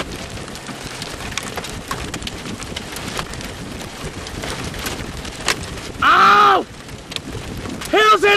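Hail and rain pelt a car during a tornado storm near Stratford, Texas, a dense patter of impacts on the roof and glass under wind, with excited shouting breaking in near the end.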